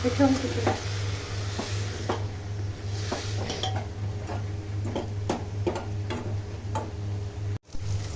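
Singri beans with potatoes and spices sizzle steadily in a pan as a utensil stirs and scrapes, producing irregular clinks and taps over a constant frying hiss and a low hum.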